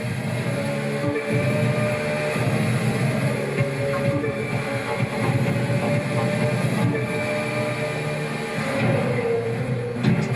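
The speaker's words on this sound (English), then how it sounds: "Racing alongside the Seattle monorail here, another landmark built for the 1962 World's Fair." Monorail train in Seattle within the racing game The Crew 2, a steady rumbling rail rush with clattering texture, loud and continuous throughout with no talk.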